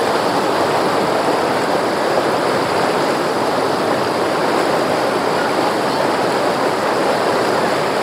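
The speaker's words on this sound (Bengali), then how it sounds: "এইখান দিয়ে কিন্তু এই ব্রিজের নিচে দিয়ে কিন্তু জলটা আসছে। এখান দিয়ে এসে জল কিন্তু চলে যাচ্ছে" A stream flowing under a bridge at an ashram site in Assam. A loud, continuous rushing roar of water runs throughout with no pauses and no voices.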